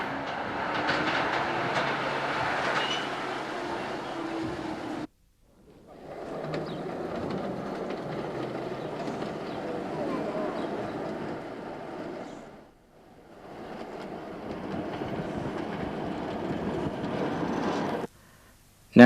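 A Ford diesel pier railway locomotive pulls three toast-rack carriages along a seaside pier, its rumbling run and clickety-clack of wheels heard close and steady, broken by two brief quiet gaps and no talk.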